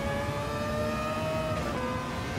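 A Mazda rotary-engine race car in Gran Turismo 7 howls at sustained high revs with a steady buzzing tone that dips slightly as it shifts, loud and continuous with no talk.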